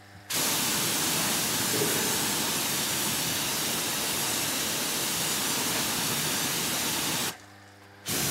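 Water spray rinsing motorcycle wheels, a loud continuous hiss of spraying water running steadily and close for about seven seconds, then cutting off briefly and restarting at the end.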